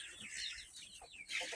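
A heritage-breed rooster clucks softly a few times in a short, faint burst of bird calls.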